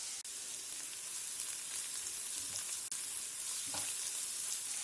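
Garlic and ginger frying in a pan for a vegetable momos soup give off a steady, continuous sizzle with faint stirring scrapes, heard alone with no talk.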